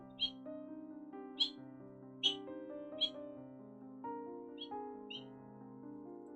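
Bobolink song plays over a clear, quiet background, with bright bubbling notes and sharp chirps repeated several times across a few seconds.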